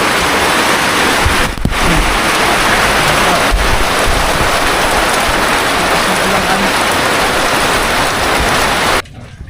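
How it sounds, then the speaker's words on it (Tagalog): Heavy rain pours down in the Philippines during flooding, a dense, steady, loud roar of drops that continues unbroken for most of the clip before cutting off abruptly near the end. "Grabe lakas ng ulan ay."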